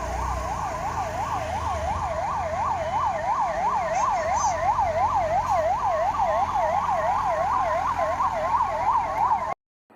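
A 108 ambulance siren wails in a fast, regular up-and-down pattern, steady and fairly close over faint road traffic, cutting off abruptly at the end.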